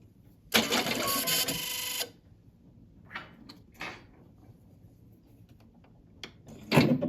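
A home sewing machine switching back on gives a single loud mechanical whirring burst lasting about a second and a half, followed by a few faint, scattered clicks and a short clatter at the end.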